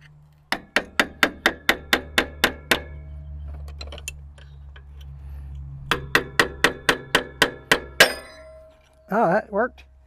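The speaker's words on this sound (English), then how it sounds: "then hit it on this side with the hammer" A hammer strikes metal on an abandoned digger in two rapid bursts of about ten sharp ringing blows each, close and clear, followed by a short spoken remark.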